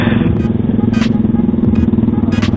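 Modified Yamaha R15 V3 motorcycle crossing a speed bump, its lowered exhaust scraping the asphalt in a couple of short harsh scrapes over a steady close engine rumble.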